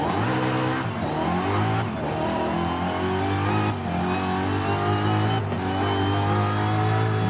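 A BMW M3 GTR with an upgraded transmission in Forza Horizon 5 revs hard and loud on its own, climbing steadily in pitch with brief dips at roughly one-second intervals as it shifts up through the gears.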